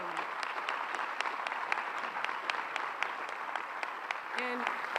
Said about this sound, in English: So yes, applaud the Brooke for that.